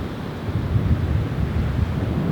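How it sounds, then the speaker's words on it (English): Steady wind roaring and buffeting on an open Texas beach, a low constant rush with gusts swelling and fading, no voices present. "A little windy out here, so check this out."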